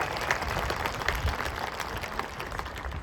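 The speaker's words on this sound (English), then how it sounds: "So a round of applause for UW Athletics." An audience at a family and friends band performance applauds for UW Athletics, a moderate, steady wash of clapping heard at some distance in a large space.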